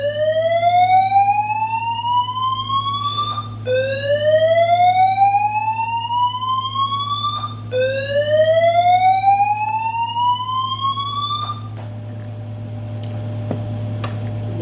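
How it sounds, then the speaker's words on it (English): A fire alarm goes off with loud repeating rising electronic sweeps, each lasting a few seconds, before dropping to a steadier tone over a constant low hum. "There's a fire alarm going off."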